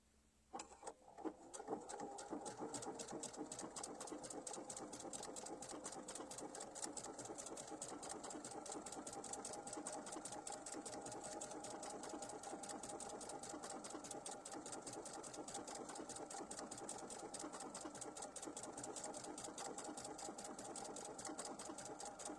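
A sewing machine stitches steadily for about twenty seconds, its rapid even needle clatter running close and loud with no speech over it.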